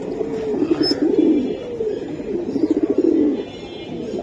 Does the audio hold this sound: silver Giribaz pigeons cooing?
yes